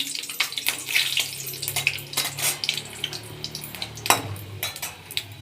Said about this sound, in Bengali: সর্ষেতে একটু জল দিয়ে দিলাম